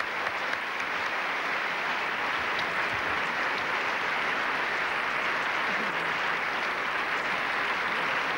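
Sustained audience applause at a 1994 Italian television awards show, a dense, steady wash of many hands clapping throughout, loud and even with no break.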